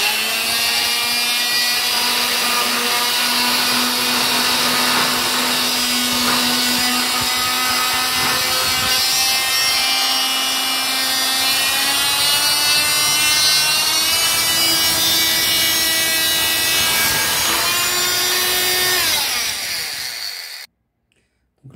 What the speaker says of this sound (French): c'est un système à oscillation, donc il n'y a pas de rotation.